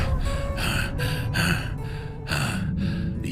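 A cartoon wolf pants hard after running, voiced by a performer as a rhythmic series of about six loud, breathy gasps, close and alone.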